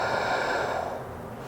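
One slow, steady breath during a vinyasa yoga practice, a close, airy exhale that fades gradually, heard alone without talk.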